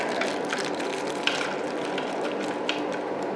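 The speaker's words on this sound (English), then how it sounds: "And we're going to screw them in, but we're not going to tighten them too much just yet." Steady fine ratcheting clicks from a hand tool driving screws while mounting a Harbor Breeze Grace Bay ceiling fan, a continuous close mechanical chatter with a couple of sharper ticks and no talking.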